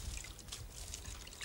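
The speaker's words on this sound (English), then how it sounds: "add a little bit of water." Water pouring into a compost bin of rubbish and organic matter, a soft continuous trickle and splash at low volume throughout.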